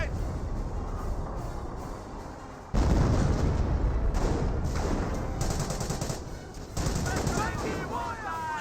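A 17-pounder artillery barrage and small-arms fire in Company of Heroes 1, with heavy booming impacts and dense crackling gunfire. The fire rolls on steadily and grows louder partway through, with no clear voices.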